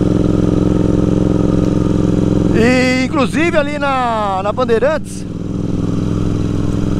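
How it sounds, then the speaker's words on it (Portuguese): A Continental GT 650 motorcycle with an aftermarket exhaust revs up and down several times mid-clip, rising and falling over a steady low engine drone, while someone talks throughout. "Moto realmente uma delícia para acelerar, ainda mais a GT aqui tá com esse escapamento aqui, ó."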